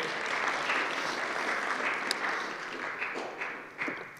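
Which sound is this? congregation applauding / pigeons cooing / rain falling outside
congregation applauding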